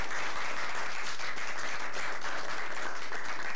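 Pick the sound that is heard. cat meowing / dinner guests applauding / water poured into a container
dinner guests applauding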